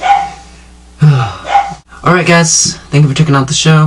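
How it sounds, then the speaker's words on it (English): A dog barks several times indoors, sharp yips breaking in close by while someone speaks over it. "Sorry, that is the dog"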